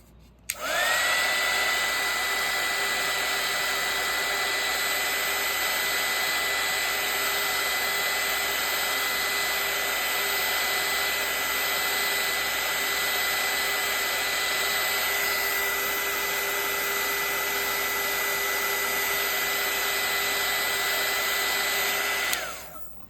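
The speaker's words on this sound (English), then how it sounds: "So I'm gonna go ahead and hit it with a heat gun again." A heat gun blows hot air to dry paint on a gelli print, a steady, loud, continuous whirring roar with a high whine that starts abruptly and holds unbroken for about twenty seconds before cutting off.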